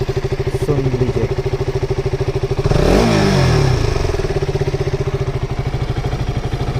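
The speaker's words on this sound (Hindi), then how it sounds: "अभी हम फुल एक्सीलेटर देके इसका जो लिमिटर साउंड है बोले तो फुल RPM पे कैसा आवाज़ करता है KTM RC 200" A KTM RC 200 BS4 motorcycle engine chugs in a rapid rhythmic idle, then surges in a sharp rev up to the full-RPM limiter near the middle before dropping back to a steady pulsing idle, loud and close.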